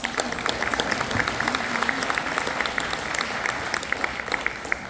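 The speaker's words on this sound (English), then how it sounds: "Let's give them a round of applause." A crowd gives dense, continuous applause after an AI presentation, with many overlapping claps holding steady at a fairly loud level for the whole stretch.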